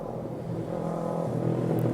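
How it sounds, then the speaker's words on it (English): A car passes by outside on the road, a steady mid-range engine whir that swells slightly over two seconds, moderately distant and fairly faint. "I'll try not to talk when there's a car or a vehicle passing by."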